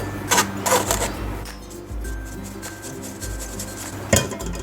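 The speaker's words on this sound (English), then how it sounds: "We're going to sift all of our dry ingredients, which are flour, salt, bicarb soda or baking soda, and baking powder." Flour and cocoa, along with salt, baking soda and baking powder, being sifted into a bowl for a chocolate cake, giving a steady scratchy rattling and tapping from a sieve with sharper knocks at intervals, close and without talk.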